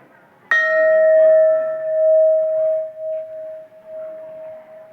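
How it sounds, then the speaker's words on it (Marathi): A large bell at a Vitthal temple is struck once and rings out loud and close, its clear tone sustaining and slowly fading over several seconds amid faint background murmur. "इथला मोठा बेल"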